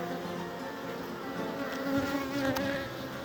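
A steady, dense buzzing of many honeybees around a hive frame close by, a continuous droning hum with no voices.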